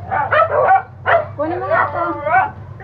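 Pet dogs at home on a rainy day yip, whine and bark excitedly up close, giving several bursts of high, eager barks with a person talking among them.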